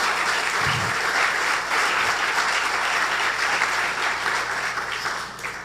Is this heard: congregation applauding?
yes